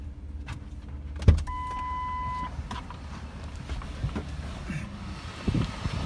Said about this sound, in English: There's the rear power window that never works in these vehicles, so ours works.